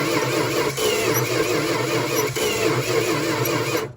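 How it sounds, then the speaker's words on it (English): A 1986 Dodge D150 pickup engine, long seized and sitting for years, cranks over continuously on the starter with a steady, loud, even churning rhythm that cuts off at the end. "The good news is it does crank now, and it's sounding better and better."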